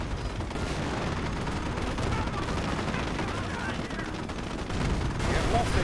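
A Sherman tank firing on a Panzer IV in Company of Heroes, with steady rattling gunfire and battle noise throughout and a heavier blast near the end. A voice talks over the fighting at times.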